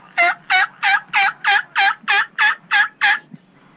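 A wild turkey gobbles in a fast run of about ten loud, rattling notes, close and clear against a quiet outdoor background.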